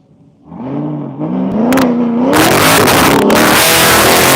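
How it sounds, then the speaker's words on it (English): A Corvette engine starts low and revs up at an air force base, rising in pitch and growing louder as the car accelerates away, ending in a steady roar. "Corvette making some good noise as it pulls away."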